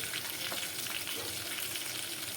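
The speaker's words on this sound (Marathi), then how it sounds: "याला मस्त भाजी तेलामध्ये फ्राय करून घ्यायचं आहे" Cumin seeds fry in oil with a soft, steady crackling sizzle, quiet and close, with no talking.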